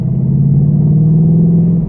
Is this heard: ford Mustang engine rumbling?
yes